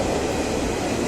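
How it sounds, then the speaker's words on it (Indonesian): A passenger train bound for Bogor rolls past with a steady, close, broadband rumble that holds at an even level throughout, with no voices over it. "ini kereta yang ke arah Bogor"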